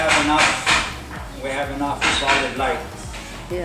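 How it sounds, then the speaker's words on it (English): Hammering rings out from a neighbor building something next to an apartment, several irregular knocks and clinks under close conversation. "The neighbor is building something. They've been hammering for 2 days."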